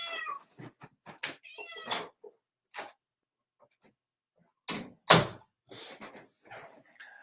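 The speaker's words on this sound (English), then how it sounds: "I can't mute my cat here." A pet cat meows repeatedly at a door in a home, loud and close, in short bursts spread across the moment with quiet gaps between calls.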